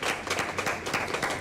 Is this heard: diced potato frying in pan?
no